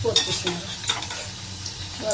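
Chhana-filled patti singara frying slowly in oil over low heat, a soft steady sizzle with a couple of brief stirring clinks, close and without talk.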